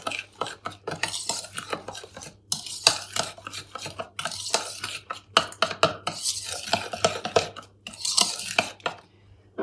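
Egg and a little flour being stirred into gluten-free lemon polenta cake batter, with steady scraping and clinking of a utensil against the bowl throughout, close and fairly loud.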